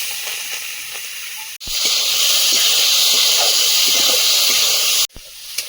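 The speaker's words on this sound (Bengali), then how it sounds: "পেঁয়াজ আর চিংড়ি মাছটা ভেজে নেব" Onion and shrimp frying in hot oil in a wok, giving a loud, steady hiss and sizzle that starts abruptly and runs continuously for several seconds before cutting off.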